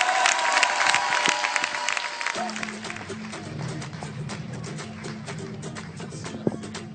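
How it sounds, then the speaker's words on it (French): A theatre crowd at a campus comedy show gives thunderous applause for comedian Romain Bruguière, dense clapping that fades as walk-on music continues underneath. "un tonnerre d'applaudissements pour Romain Bruguière"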